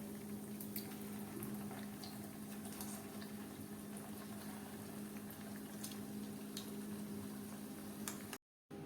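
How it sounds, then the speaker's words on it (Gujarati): Green pigeon pea (lili tuver) dhekra fritters frying in hot oil give a faint, steady bubbling sizzle with scattered small crackles and pops, with no talking. "ફરીથી આપણે બીજા પણ એડ કરતા જઈએ અને તળતા જઈએ"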